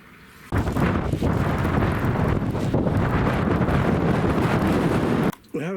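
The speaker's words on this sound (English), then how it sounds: "at least she's sheltered from this very strong wind, and it's been blowing about 40 miles an hour" Very strong wind of about 40 mph on the Isle of Mull buffets the microphone with loud, continuous roaring gusts for several seconds, then drops away abruptly at the end.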